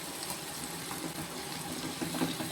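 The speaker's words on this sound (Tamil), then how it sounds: "இப்போ கொஞ்சம் தண்ணி ஊற்றிக்கிறோம்" Water pours steadily into a pot of Tamil drumstick gravy, a continuous splashing gush that stays even and fairly close for the whole stretch, with no one talking.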